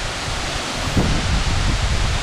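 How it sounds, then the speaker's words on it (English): Strong wind roars at Larapinta Falls in Lamington National Park, mixed with heavy spray from the waterfall as a loud, constant broadband rush with slight gusty swells. "Oh, it's so windy here."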